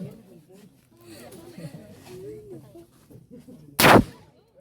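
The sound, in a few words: gunfire during confidence firing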